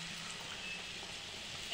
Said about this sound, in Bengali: এবার আমরা তেলে ছেড়ে দেব।